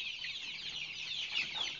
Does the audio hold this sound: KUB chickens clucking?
yes